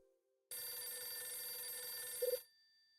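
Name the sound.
telephone ringing in video game Hotel Dusk: Room 215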